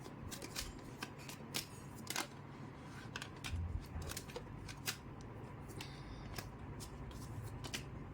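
Tarot cards being shuffled by hand at a reading, a close, steady run of crisp riffling flicks and soft slaps that repeat for several seconds without talk.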